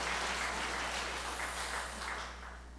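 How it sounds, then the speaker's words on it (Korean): Congregation clapping during a Sunday worship service at a Korean church, a soft, somewhat distant wash of applause over a low steady hum, fading slightly toward the end. "박수 한번 해주세요."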